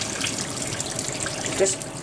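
Tap water running steadily into a pot of drained lima beans in a home kitchen, a soft continuous splashing stream heard up close with no talking.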